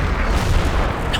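Cannon fire in the Napoleon: Total War video game, a dense rumbling barrage of booming shots rolling together over a short stretch, loud and without speech.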